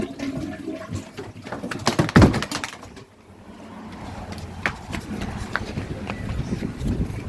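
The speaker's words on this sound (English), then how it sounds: "I just flushed it a second ago." A toilet flushes during sewer line cleaning work on a clogged line, with a loud rushing surge of water about two seconds in that fades into a steady, softer draining trickle.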